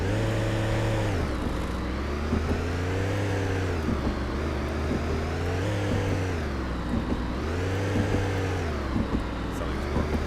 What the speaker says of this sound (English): Sounds like a wheel bearing.